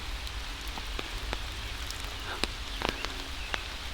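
Rain falls in Wissahickon Valley Park in Philadelphia, a steady soft hiss with scattered sharper drips and taps landing on nearby surfaces, moderately quiet and without voices.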